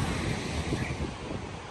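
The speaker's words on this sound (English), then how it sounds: "Waves are just coming in crisp" Ocean waves roll in and break on a sunny day at a surf lineup in Puerto Rico, a steady close wash of surf with wind rumble across the microphone and no talking.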